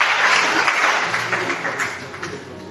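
A congregation claps and cheers for the Lord, a steady wash of applause that is loud at first and slowly thins toward the end.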